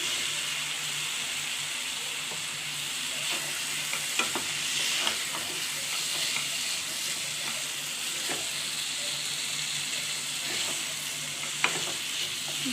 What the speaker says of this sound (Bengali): ভালো করে মশলাটা ছোলার মধ্যে 2-4 বার করে নেড়ে নেব